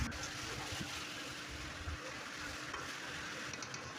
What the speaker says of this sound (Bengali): মাংসগুলো দিয়ে ওই টমেটো মশলার সঙ্গে আমি ভালোভাবে কষিয়ে নেব। ভালোভাবে নাড়াচাড়া করে আমি এটাকে কষিয়ে নেব।